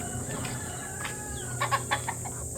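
A hen clucks in short repeated calls over steady farmyard background noise, moderately close and fairly clear, with no one talking.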